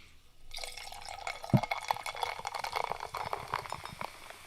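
Tonic water poured into a glass with lime, a soft liquid splash with fizzy crackles and small clinks, close but quiet, running a few seconds with no talk.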